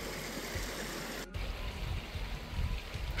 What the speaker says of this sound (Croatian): potok,